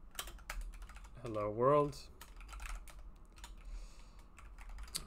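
Quick clicks from a computer keyboard during coding in a Go package on an Arch Linux setup, scattered keystrokes near and clear, with a brief stretch of speech partway through.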